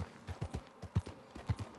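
Horse hooves clip-clop in a steady trotting rhythm in Red Dead Redemption 2, a run of soft, low, fairly close thuds heard alone.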